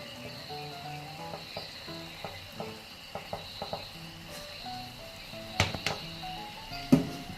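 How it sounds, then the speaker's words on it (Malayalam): Coconut oil sizzling in a pan with a Kerala thoran of madantha leaves, a steady frying hiss broken by light scrapes and clinks of stirring, close and moderately loud. "നമുക്ക് കുറച്ച് വെളിച്ചെണ്ണ ഒഴിച്ചു കൊടുക്കാവേ."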